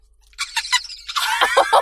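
A person imitates a dolphin with a series of short high squeaky chirps that build into a rapid, shrill, screechy squeal, close and loud.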